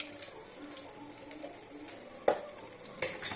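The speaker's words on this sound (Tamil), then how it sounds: "சீரகமும் வரமல்லியும் போட்டு தாளிச்சிக்கலாம்." Cumin and coriander seeds sizzle faintly in hot oil, a soft steady crackle broken by a few sharp pops and clinks from a pan.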